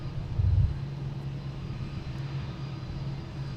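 Steady, distant roar of an airplane at Boston Logan International Airport, a broad low rumble that swells briefly then holds evenly throughout with no voices.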